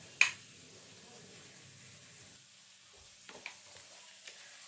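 Onion, potato, peas and carrot frying in a pan, with a quiet ongoing sizzle, a sharp knock of a utensil at the start and a few soft stirring scrapes later.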